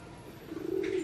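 A single pigeon gives a soft, brief coo, nearby but quiet against faint background noise.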